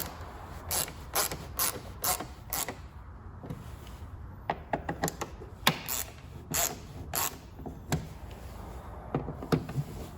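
Ratcheting clicks from a tool driving tail light gasket screws on a MINI Cooper, coming in quick close bursts separated by short pauses.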